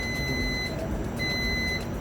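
Multimeter continuity beep sounding while the probes test a shorted section of a laptop motherboard: a steady electronic tone that holds, cuts out briefly, then resumes, over faint background hum with no talking.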